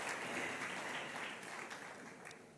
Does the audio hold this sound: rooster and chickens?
no